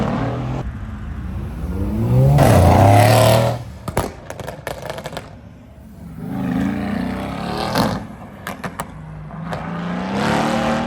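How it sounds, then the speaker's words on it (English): A Rolls-Royce Wraith leaves a supercar meet in Dubai: a close engine note swells and climbs in pitch as it pulls away, then quieter passing engine sounds and road noise follow. "Rolls-Royce Wraith going."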